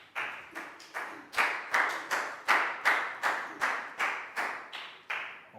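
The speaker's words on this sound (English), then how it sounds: "Big round of applause for Preo," A classroom of young pupils claps for a classmate, about a dozen fairly even, evenly spaced claps in unison, close and crisp, with no talking.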